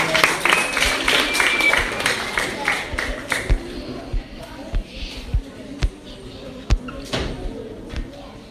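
Audience at a school spelling bee contest applauds a pupil who has just been eliminated, a broad wash of clapping with a few sharper, louder claps standing out over several seconds.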